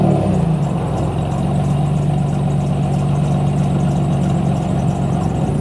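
A 1991 Pontiac Firebird's 3.1 liter V6 with an aftermarket exhaust idles steadily and close by, a continuous low rumble with no break or revving.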